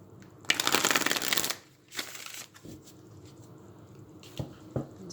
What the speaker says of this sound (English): There's one more shuffle.